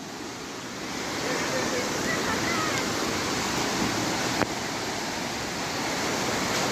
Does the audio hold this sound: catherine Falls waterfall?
yes